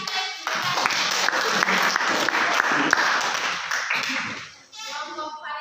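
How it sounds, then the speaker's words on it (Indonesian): An audience applauds a presenting group in a classroom session, steady dense clapping filling the room for about four seconds before tapering off, with a voice speaking faintly underneath. "kita berikan aplaus untuk kelompok Parises"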